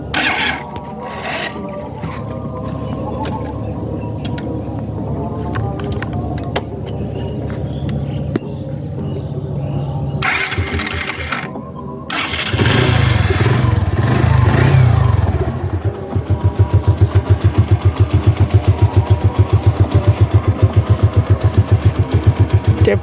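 A modded motorcycle engine fires up and settles into a steady idle with a fast, regular tapping from the engine, loud and close, after a stretch of mechanical rattling and clatter.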